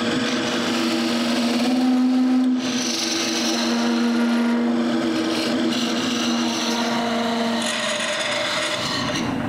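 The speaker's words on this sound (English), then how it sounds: "The very last thing to do on the lathe is to cut the handle." A wood lathe cuts off the handle of a turning tool, giving a steady, loud rasping scrape with a sustained tonal whine that runs the whole time with brief shifts in pressure, and no talking.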